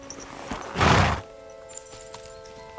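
A horse in Kingdom Come: Deliverance II gives a single loud neigh, with a few faint hoof clops before and after against a quiet background hum.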